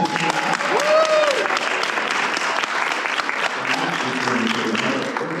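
A Fan Expo Dallas crowd gives sustained applause for several seconds, with dense clapping and a few cheers and whistles rising over it, fairly loud and close.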